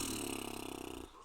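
A voice imitating loud snoring in a children's story, one drawn-out rattling, buzzing snore with a rapid fluttering pulse that stops abruptly.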